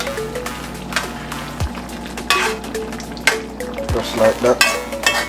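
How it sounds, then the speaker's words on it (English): Stirring and sizzling of Jamaican curry chicken in a pot after cayenne is added, with utensil scrapes and clinks against the pot over a steady fry, and a voice speaking briefly. "So make that go and mix in a little bit"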